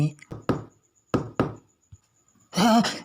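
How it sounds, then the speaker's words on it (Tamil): Knocking on a door in a Tamil comedy scene: sharp knocks in two pairs, near and loud, followed by a brief vocal exclamation. "யாரோ கதவை தட்டுறாங்க."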